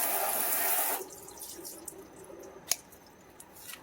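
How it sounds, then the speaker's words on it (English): Garden hose water on shower setting flooding a coated car-finish test panel treated with a graphene coating: a loud, close rush of spray that cuts off after about a second, leaving faint drips and one sharp splash. "I'm going to switch over to shower and see if we sheet"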